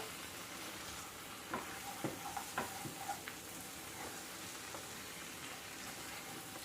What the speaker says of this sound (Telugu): ఇవన్నీ ఒకసారి కలుపుదాం బాగా మొత్తం ఒకసారి కలుపుదాం